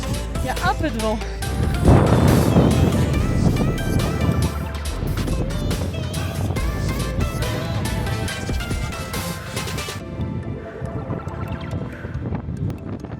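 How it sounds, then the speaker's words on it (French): Gusty wind buffeting a microphone on a Pyrenees mountain pass, loud rumbling roar throughout with hikers talking and panting over it. "Il y a un peu de vent."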